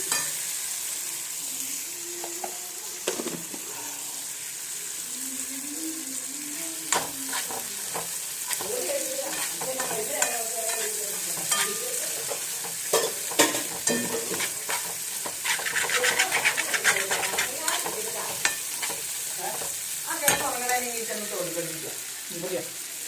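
Leftover cooked beans stir-fried in a pan for mezhukkupuratti, a continuous close sizzle with repeated spatula scrapes and clatters, while a voice talks intermittently over it.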